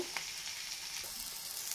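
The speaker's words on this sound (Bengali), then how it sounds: "আমি এবার আলুগুলো একটু ভেজে নেব" Potatoes frying in oil in a pan for a vegetarian potato and pointed gourd curry give off a steady, close sizzle with a few small pops and no talking.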